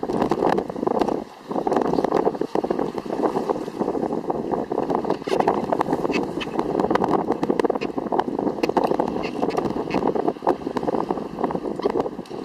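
Sailboat under jib with the motor off, steady rushing wind and water noise around the hull, close and fairly loud, continuous with small fluctuations.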